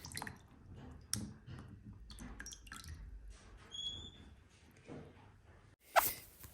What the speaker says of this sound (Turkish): Karbonatlı suda beklettiğim portakal kabuklarını bu suyun içerisinden çıkarıyorum.